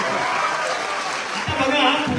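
Audience applause during an inspirational speech in India, a broad continuous patter of clapping throughout, with a voice speaking over it near the end.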